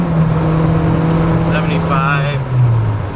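A 1981 VW Rabbit pickup with a 5-speed manual pulls through its gears from inside the cab, the engine note humming steadily and dropping slightly in pitch as it shifts, with a voice speaking over it.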